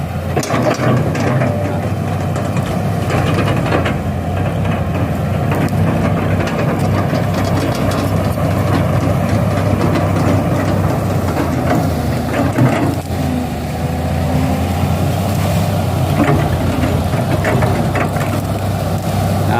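A tractor engine runs continuously out in a field, a steady low rumbling drone that is close and loud throughout with no pauses.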